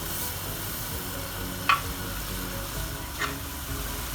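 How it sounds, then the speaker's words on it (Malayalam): Sesame seeds stirred into a warm jaggery and coconut mixture for uluva vilayichathu, a steady low sizzle with soft scraping and two brief clicks of a spoon against the pan. "ഒരു 4 ടേബിൾ സ്പൂൺ എള്ള് നമുക്ക് ഇതിലേക്ക് ചേർക്കാം."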